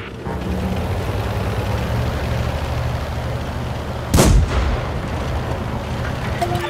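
A tank gun fires once in the video game World of Tanks, a single heavy boom midway through over a constant low engine rumble, with no speech.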